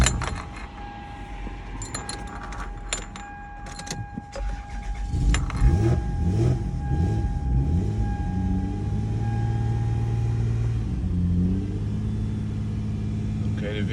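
A Toyota engine, just fitted with a new MAF sensor, cranks and catches with a key jangle, then settles into a steady, close, loud idle rumble for the rest of the clip.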